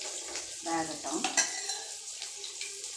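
Bitter gourd (pavakkai) pieces fry in a pan with a quiet, steady sizzle, while a utensil scrapes and clinks against the metal a few times during brief stirring.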